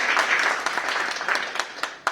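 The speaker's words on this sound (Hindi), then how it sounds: "एक बार जोरदार ताली बजा दिया जाए।" An audience in a hall gives a round of applause, a brief burst of many hands clapping that thins into a few scattered, separate claps toward the end.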